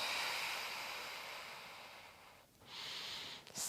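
Slow, deep breaths drawn in and let out during a post-abdominal-surgery yoga core exercise, with a long airy exhale fading to a pause before another breath begins, close and soft with no talking.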